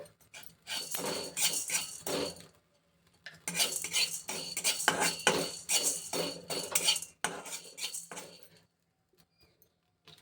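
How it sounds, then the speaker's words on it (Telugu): Chana dal goes into a dry pan on the stove for dry roasting before the other lentils and spices, and a utensil scrapes and rattles against it in two long bursts with quiet gaps between, close up. "స్టవ్ ఆన్ చేసుకుని బాండి పెట్టుకుని అందులో ఫస్ట్ మనం డ్రైగా వేపుకోవాలండి"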